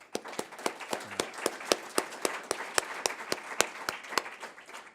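At a university seminar, a few people clap in sparse, evenly spaced claps. The claps are distinct and moderately quiet, with roughly twenty heard in a steady rhythm.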